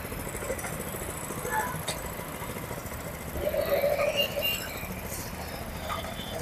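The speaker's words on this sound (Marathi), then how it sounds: "हा सात एच पीचा पॉवर विडर आहे" A 7 hp Indian Agro power weeder rotavator engine runs steadily nearby with a rough, continuous putter and a brief swell midway, while someone talks over it.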